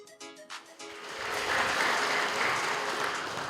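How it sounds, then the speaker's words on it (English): An audience at a school debate semi-final claps for a speaker, scattered claps at first that quickly swell into sustained, dense applause filling the room. "Round of applause for the second speaker of St. Mary's View Secondary, Paul Robin."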